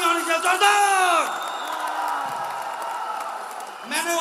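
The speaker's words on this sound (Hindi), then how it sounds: "अगर नसीब खान जी का नाम आ गया एक जोरदार तालियां होनी चाहिए, जोरदार" A large crowd at a wellness company's motivational speech event cheers, whoops and yells loudly, the roar swelling and fading in bursts, with a voice sounding over it.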